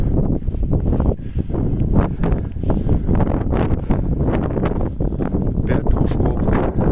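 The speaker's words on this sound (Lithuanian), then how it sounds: "Kad ir didelis vėjas" Strong wind buffets the microphone on a phosphogypsum hill in Kėdainiai, a loud continuous roar with gusty rumbling throughout.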